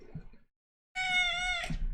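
A shy pet cat gives one long, clear meow close by, filling the second half of the clip after a brief rustle and a moment of silence.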